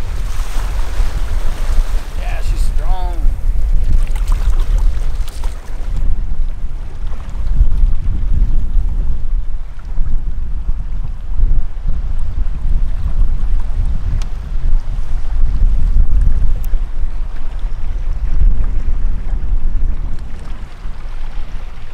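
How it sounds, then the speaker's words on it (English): Strong wind roars over open water on a river and inland sea during a canoe camping trip, with continuous loud gusts buffeting the microphone and waves washing beneath, steady throughout with no talking. "It is real windy now."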